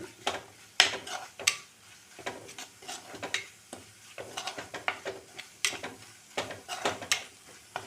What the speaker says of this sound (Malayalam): നന്നായിട്ട് അതിൻ്റെ പച്ചമണം മാറുന്ന വരെ നന്നായിട്ട് ഇളക്കി കൊടുക്കണം.